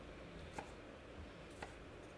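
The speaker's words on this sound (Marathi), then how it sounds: "बघू शकता तुम्ही कसं चिरून घेते मी." A knife finely chopping green garlic shoots on a board for thepla, faint and close, with two distinct sharp chops standing out over a soft, steady background.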